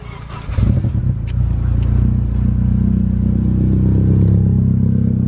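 A Honda engine in a Type R build revs up into VTEC, building from a clattering start into a loud, sustained high-rpm wail close to the listener, with no speech over it.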